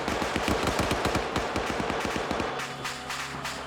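Rapid bursts of automatic gunfire from a military video game training op rattle loudly for about two and a half seconds, then give way to a lower sustained rumble with scattered pops.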